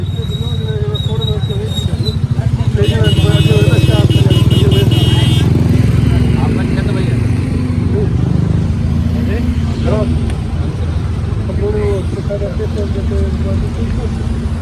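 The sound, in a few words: auto rickshaw engine passing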